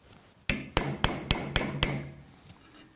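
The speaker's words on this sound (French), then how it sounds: "Et ce plat va me permettre de marquer au pointeau le point de perçage." A hammer strikes a center punch on a metal tube to mark a drilling point: five sharp, ringing blows in quick, even succession, close by, followed by a quiet tail and a faint final tap.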